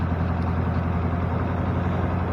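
A Ford F600 truck engine idles with a steady, dense low rumble, continuous and close throughout with no voices.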